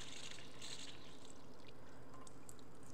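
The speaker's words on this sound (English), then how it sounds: "So fill up a cup of water." Water poured into a cup for a simple atmospheric pressure demonstration, a soft, faint, steady trickle lasting a few seconds, with no voices.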